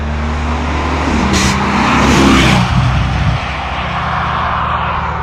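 A Mercedes C63 AMG sweeps past with its exhaust valves closed, a loud engine roar swelling toward a peak and then fading as the car moves away, heard alone without talk.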